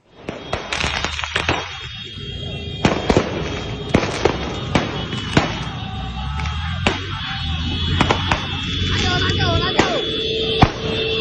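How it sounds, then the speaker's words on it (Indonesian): Firecrackers are thrown onto a street by teens on motorcycles during a brawl, setting off sharp, repeated bangs at irregular intervals with a brief whistling burst near the end. "Aksi tawuran menggunakan petasan meresahkan warga."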